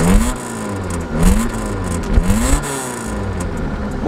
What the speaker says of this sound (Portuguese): Motorzinho redondo, hein, turma? Olha o barulhinho.